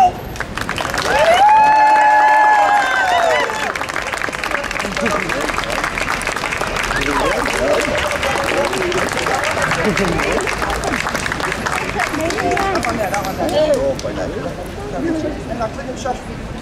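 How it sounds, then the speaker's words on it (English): Street audience at a fringe performance clapping, cheering and screaming, starting with a loud whoop and continuing as steady applause with shouts, while a performer talks over it. "everyone claps"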